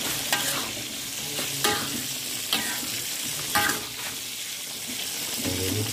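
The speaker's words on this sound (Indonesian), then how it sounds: "Ini goreng tempe" Tempeh frying in a blackened wok, a steady sizzle with repeated scraping stir strokes of a spatula, close and continuous throughout.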